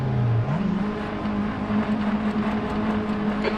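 A Tatuus race car engine in the Assetto Corsa racing game drones steadily at high revs, its pitch rising briefly early on and then holding as a constant whine, loud and unbroken, with no voices.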